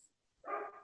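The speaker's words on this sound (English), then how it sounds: "apologies for the dog" A single dog barks once, a short, fairly loud bark in an otherwise quiet room with no talking.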